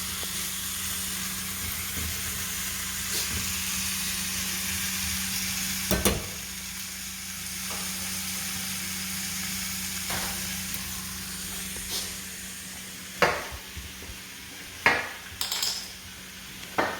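Shrimp and chorizo sizzle steadily in a hot pan for Spanish chorizo and shrimp, a constant frying hiss broken by a few sharp clinks and scrapes of a utensil stirring against the pan.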